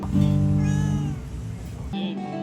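A cat gives a loud, drawn-out meow close by, followed by a shorter second meow, with faint background noise.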